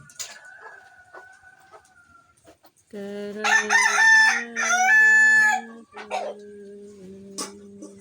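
Roosters crow loudly nearby, one long cock-a-doodle-doo after another, with fainter crowing and clucking in the background.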